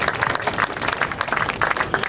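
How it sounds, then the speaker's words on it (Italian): Warm applause from an audience at a festival talk, loud and fairly close, with individual hand claps standing out in an uneven, busy rhythm across the whole stretch. "Io direi di salutare con un caloroso applauso i nostri ospiti per questo bel dialogo"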